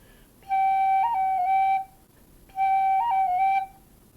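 Irish tin whistle playing a slow G roll ornament, two clear held phrases each with quick cut and tap flicks around the note, close and bright over faint background hiss.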